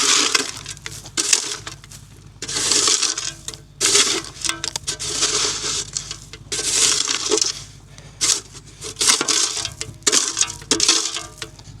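Broken rear window glass is scooped up in repeated crunching, clinking bursts, each followed by a short pause, sounding close and rhythmic over a low steady hum.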